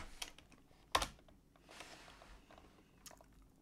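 Someone types a terminal command into a computer keyboard on an Ubuntu system: a few sparse, faint key clicks with one sharper keystroke, otherwise quiet.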